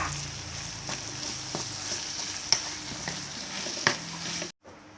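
Spicy curry paste stir-fried with sweet bamboo shoots in a pan, a steady close sizzle with scraping stir strokes and a few sharp clinks, cutting off abruptly near the end.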